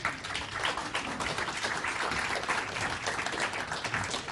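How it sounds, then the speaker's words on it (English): An audience at a spiritual lecture event in Sydney claps steadily. The dense, even applause fills the room without a break from start to finish. "if you're going to applaud, I actually request that the applaud doesn't go to me"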